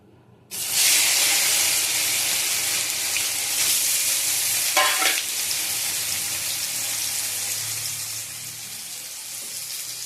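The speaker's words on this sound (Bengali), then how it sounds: "আমি একটু ভেজে নেবো, লতিটা একটু নরম হয়ে গেছে।" Lightly boiled taro stolons hit hot oil with a sudden loud sizzle, then keep frying in a steady, close hiss with occasional stirring scrapes, and no voices.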